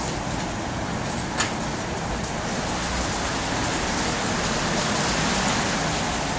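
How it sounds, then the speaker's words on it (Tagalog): Heavy rain pours steadily outside an old pension house in Cotabato City, Mindanao, Philippines: a dense, continuous hiss and wash of rainfall, loud and even throughout, with no talking. "sobrang lakas ng ulan sa labas. So ipakita ko sa inyo yung ulan dito sa labas."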